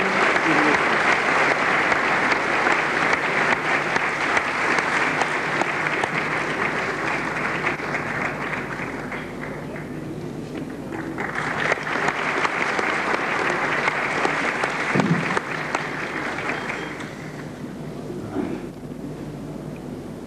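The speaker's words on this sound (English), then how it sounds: "A special applause for Dr." A large audience applauds at a formal event as a vice president is introduced, a dense, steady wash of many hands clapping for about twenty seconds, briefly thinning midway before swelling again and tapering at the end.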